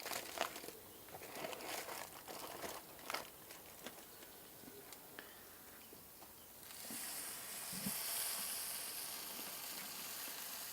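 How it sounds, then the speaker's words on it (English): A steady crackling sizzle of pork spare ribs on a hot grill, with scattered pops and crinkly bursts that grow louder and denser near the end. "You can hear them sizzling."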